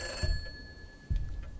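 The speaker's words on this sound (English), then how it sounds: "It's ringing." Telephone ringing in the Roblox horror game Confined, two short electronic ring bursts separated by a pause, moderately loud against a quiet background hum.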